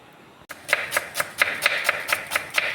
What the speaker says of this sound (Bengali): পেঁয়াজ এভাবে কাটবেন